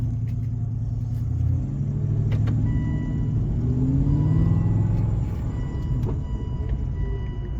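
An Aston Martin engine hums and rumbles steadily while driving, with a subtle shift in pitch around a gear change, heard from inside the car with no talking.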